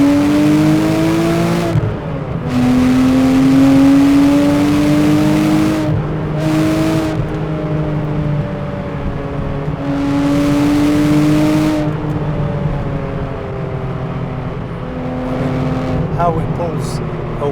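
A Porsche Cayman 987 S first generation pulls away hard from a junction in first gear, its engine note rising loudly through several surging revs with gear changes, a voice talking over it.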